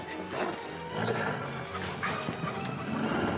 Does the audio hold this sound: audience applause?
no